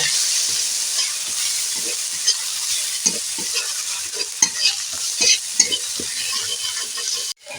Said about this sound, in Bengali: এবারে দিয়ে দেব হলুদ এবারে দিয়ে দেব ভাল লঙ্কার গুঁড়ো এগুলোকে এইভাবে ভালো করে একটু ভেজে নেব